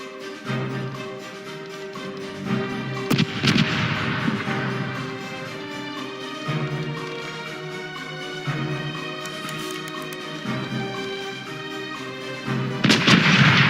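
Cannons fire broadside from a sailing ship in the pirate game Corsairs Legacy, heavy booming blasts arriving in clusters across the span, loud and close over a sustained musical score.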